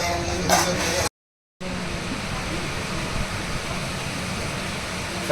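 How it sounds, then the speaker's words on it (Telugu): Fish curry keeps boiling in a clay pot, a steady bubbling hiss that cuts out for a moment and then resumes. "ఈ మట్టి కుండలో చేపల కూర ఉడుకుతూనే ఉంటుంది ఒక 1/2 గంట వరకు"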